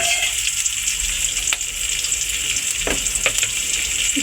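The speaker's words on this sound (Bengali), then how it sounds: "এই যে আমার পেঁয়াজটা ব্রাউন হয়ে আসছে, এবার আমি একটু করে বাকি মশলা দিয়ে" Onions frying and browning with spices in a pan for Bangladeshi lentil dal, a continuous bright sizzle with occasional stirring clinks, close and steady.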